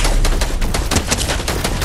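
Rapid automatic gunfire from a heat-sensor tracking gun in a video game, a loud, dense burst of evenly spaced shots filling the whole stretch with no pauses.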